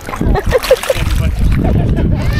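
A person dips into cold water at a Canadian campsite, causing a few quick splashes and sloshing, with people talking and exclaiming close by.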